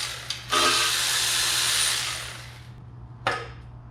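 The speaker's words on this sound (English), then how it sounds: "Let's take all the bolts off there" A power tool whirs for about two seconds, then winds down, and a second short burst follows, as bolts come off the timing cover of a 327 engine in a 1964 Chevy Impala station wagon.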